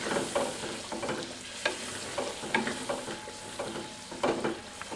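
Chicken karahi fries with yogurt in a pan, sizzling steadily under repeated scraping stirs, each stroke giving a short rhythmic clatter, heard alone and fairly quiet.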